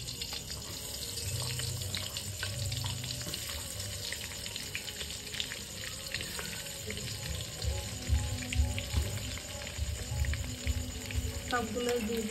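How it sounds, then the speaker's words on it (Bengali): Eggplant slices hiss and sizzle in hot oil in a wok, a steady frying crackle that runs throughout, with a brief extra flare near the end and a person talking over it. "বন্ধুরা তেলটা ভালো গরম হয়ে গেছে, এবার বেগুনগুলো দিয়ে দেবো"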